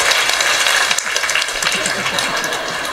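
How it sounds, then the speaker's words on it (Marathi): Audience at a kirtan claps hands in a quick, steady series of sharp slaps, fairly loud and close, carrying on without a break. "म्हणून टाळी वाजवली पाहिजे"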